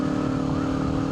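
Kawasaki Ninja 500 motorcycle fitted with an upgraded aftermarket exhaust, idling or running with a steady close low-pitched pulsing engine drone and no talking.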